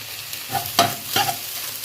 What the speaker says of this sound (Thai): เราจะผัดเป็นแบบให้ไข่เป็นชิ้นๆแล้วเดี๋ยวเราค่อยใส่แตง